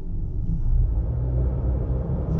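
A 2020 Honda Accord Sport 2.0T and a BMW M3 launch side by side in a drag race, heard as a brief deep engine rumble from inside the car, steady and fairly loud.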